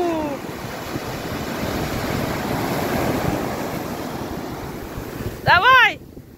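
Ocean waves surge and break on the shore in a steady, loud rushing wash with wind buffeting the microphone, and a voice calls out briefly near the end.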